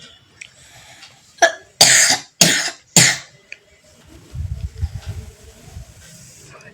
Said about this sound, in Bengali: এই সিরাপটা খেলে তোর কাশি হবে না আর সারাদিন কাশছে